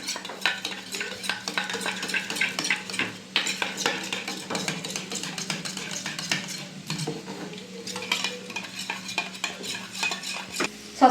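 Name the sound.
whisking soy sauce, tomato sauce and pepper mixture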